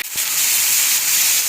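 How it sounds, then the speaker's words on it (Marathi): Ginger and garlic, with turmeric, roast in a hot pan for a green Hyderabadi chicken, giving a loud, steady hiss that starts abruptly after a brief gap and stays even throughout. "आल्या लसणाचा कच्चापणा जाईल इतकंच भाजायची, जास्त वेळ भाजायचं नाही"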